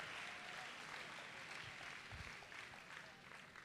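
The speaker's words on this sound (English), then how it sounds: "So somebody clap your hands for Noah." A camp congregation claps steadily in a broad, even wash of applause, fairly faint and distant, with a few louder low thumps near the middle and no talk over it.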